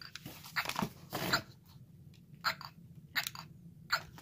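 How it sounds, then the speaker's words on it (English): A toy baby doll plays electronic milk-sucking noises: a string of short, wet, smacking bursts in an irregular rhythm, close and fairly quiet, with brief pauses between them. "It makes noises like the baby's sucking the milk."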